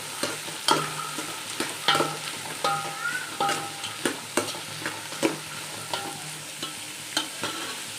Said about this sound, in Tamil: தக்காளி எப்படி ஒரு வதக்கம் கிடைக்குது